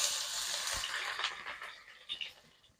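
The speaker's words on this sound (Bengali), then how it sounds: "দিয়ে পেঁয়াজটাকে হালকা একটু লাল করে ভেজে নেব।" Chopped onions sizzle in hot mustard oil as a steady, close hiss of frying, which eases off toward the end.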